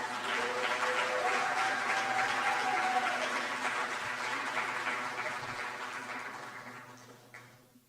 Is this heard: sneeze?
no